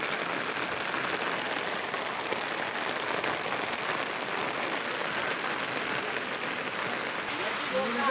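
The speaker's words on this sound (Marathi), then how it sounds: "एवढा पाऊस चालू आहे तरी बी लोक घराच्या बाहेर पडलेत" Heavy rain falls steadily in a village beside a grocery shop, a dense, even hiss of drops on surfaces that carries on without a break. Faint talk can be heard underneath.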